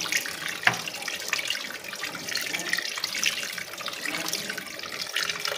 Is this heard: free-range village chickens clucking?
no